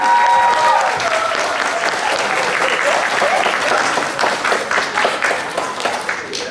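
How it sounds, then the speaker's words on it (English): Loud, sustained audience applause for graduates at a parent empowerment academy graduation ceremony, a dense wash of clapping that thins slightly near the end, with faint voices mixed in. "Please give another round of applause to all of our graduates today."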